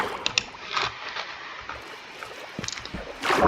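Steady watery sloshing and gurgling of a boat moving through water in a video game, with soft splashes and a louder surge of water near the end.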